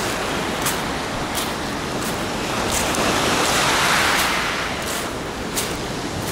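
Sea waves wash against a pier at an Alanya beach, a steady rushing surf hiss with faint wind noise, no voices.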